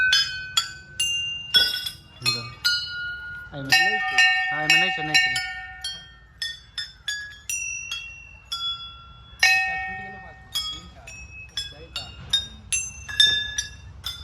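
Several temple bells at a Shiva and Bhagavati shrine being struck one after another, bright ringing clangs with long shimmering decay, close and loud, with a person speaking briefly between strikes.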